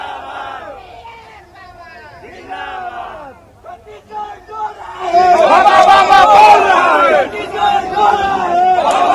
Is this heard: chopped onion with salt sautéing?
no